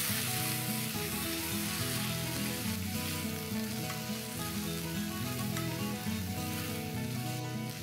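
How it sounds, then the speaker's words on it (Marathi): Chopped fenugreek leaves sautéing in a pan give a steady, close sizzle with light stirring noises throughout and no talk. "मेथी छान परतवून झाली आहे."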